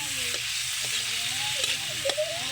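Frog adobo sizzles steadily in a hot pan while being stirred, with a constant frying crackle and a few brief scrapes of the utensil against the pan, close and continuous with no voices.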